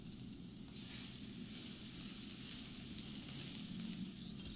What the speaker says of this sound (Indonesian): Tumis bawang putih cincang sampai harum dan agak kecoklatan.